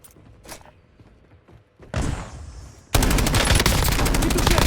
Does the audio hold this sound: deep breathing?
no